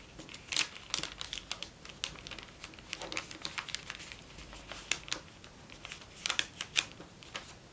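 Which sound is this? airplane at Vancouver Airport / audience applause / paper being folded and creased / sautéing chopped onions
paper being folded and creased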